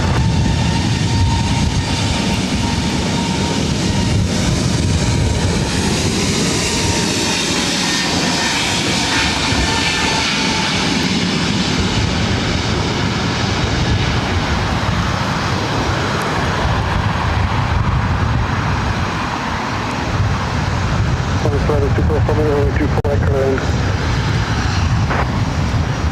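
An Airbus jet roars down the runway on takeoff at LAX, a loud, continuous broadband engine rumble that swells and sustains, close and unbroken, with no talk over it.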